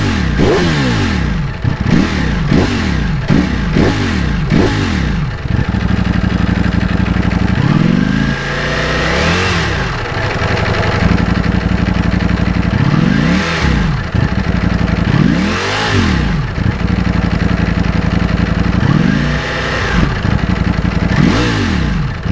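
A Ducati Panigale V4S engine is revved repeatedly at close range, with sharp climbing blips and falling notes that return to a rough, loud idle between pulls, and no talking.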